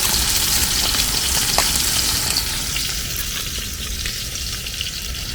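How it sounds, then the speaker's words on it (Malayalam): Karimeen pearl spot fish fries in a pan Kerala style, giving a loud, steady, crackling sizzle that runs unbroken throughout with no talking. "ഈ കരിമീൻ വറുത്തുകൊണ്ടിരിക്കുന്നത്"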